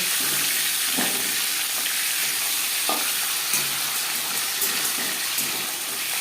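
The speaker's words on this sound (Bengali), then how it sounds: "একটা সাইজ ভাজা হয়ে গেলে অপর সাইডটা করে দেবো" Fish pieces fry in a pan with little oil, a steady close sizzle and hiss punctuated by occasional spatula knocks and stirring scrapes, with no voices.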